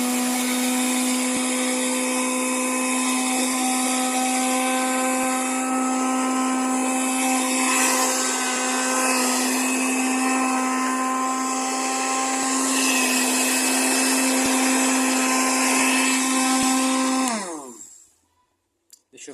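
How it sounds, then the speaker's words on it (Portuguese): Kitchen blender grinding sugar with potassium nitrate for rocket fuel, a loud steady high-pitched motor whine with rattling granules running close for about seventeen seconds before spinning down and stopping. "Agora fechar o liquidificador e deixar bater."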